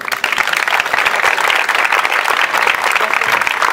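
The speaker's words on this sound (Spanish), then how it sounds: "Un aplauso para Concha." Audience applause for a poet at a library reading, a steady, dense round of clapping close by that continues throughout.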